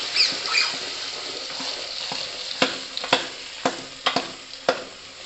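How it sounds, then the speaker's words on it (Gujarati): Eggplant, potato, tomato and onion sauté in oil inside a pressure cooker, a crackling sizzle punctuated by a series of sharp knocks and rattles as the vessel is moved, with no speech. "થોડું 2 મિનિટ આપણે એને તેલમાં સંતળાવા દઈશું."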